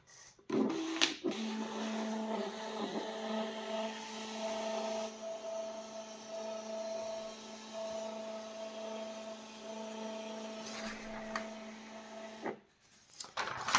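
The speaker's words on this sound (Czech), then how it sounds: "vyberu tiskárnu A810 a dávám tisk" A GREMATA MPMT810 mobile printer prints a document with a steady mechanical whir and hum that runs for about twelve seconds, opening and closing with brief clicks and a rattle, close by and with no talk.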